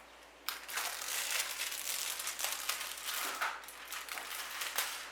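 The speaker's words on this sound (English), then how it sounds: "After 2 minutes we take the plastic off." Plastic film peeled off a microwaved pasta meal, a run of close crinkling and crackling bursts over a few seconds, fairly quiet, with no talking.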